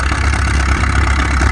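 An antique Case tractor engine chugs at a steady, rough idle-like rumble while plowing at a plow day, loud and close with no voices.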